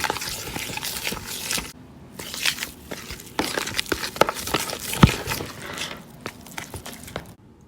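A spoon stirs vegan banana nut bread batter in a bowl, giving wet, squishy slaps and scrapes in an uneven rhythm, close and moderately loud with brief quiet gaps.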